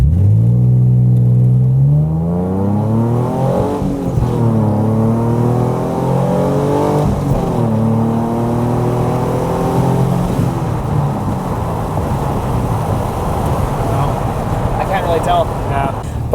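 A Nissan 350Z fitted with a Kinetix intake manifold accelerates hard, its engine note climbing through repeated rising sweeps with gear changes, loud and close from inside the car.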